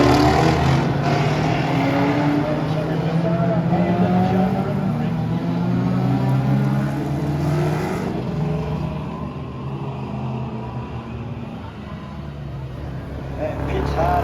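A V8 GT Ford Falcon race car brakes hard into turn 1 at a classic street race, its engine note falling as it slows, heard steadily under continuous commentary.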